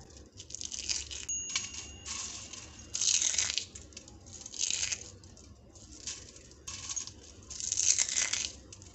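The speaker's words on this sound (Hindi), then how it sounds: "अच्छी तरह से क्रिस्पी हो चुका है आवाज़ देखें आप" Dry, crisp pieces of dried raw mango rattle and clatter in bursts, like brittle chips being shaken around a container, close and fairly quiet.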